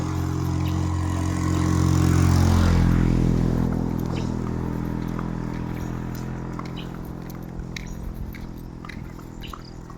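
A motorcycle passes close by, its engine drone swelling to a peak and then fading as it pulls away, a low steady rumble trailing off over several seconds.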